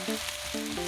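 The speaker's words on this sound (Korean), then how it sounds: "준비한 양파 볶아줄게요." Onions sizzle in a generous amount of oil over high heat, a steady close frying hiss with brief stirring scrapes layered on top.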